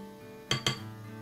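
Two quick metallic clinks of a utensil against a bowl while dal wada fritter batter is mixed, close and fairly quiet over a faint steady background hum.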